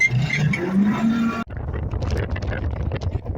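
A tractor pulling a deep subsoiler through heavy, cloddy field soil strains and slips. A harsh engine roar cuts off abruptly, then rough, uneven mechanical rumbling and knocking follow close to the microphone.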